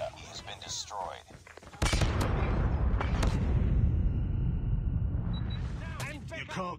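Loud gunfire in Call of Duty Mobile bursts in as sharp shots and rapid volleys over a continuous roar of battle, with game announcer voice lines and player talk nearby.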